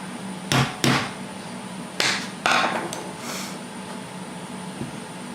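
Hammer blows on a part seated in a Yamaha Morphous scooter clutch during a belt change: two sharp taps close together, then a pause and two or three more strikes, over a low steady background hum.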